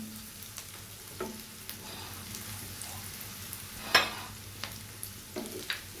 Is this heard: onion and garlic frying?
yes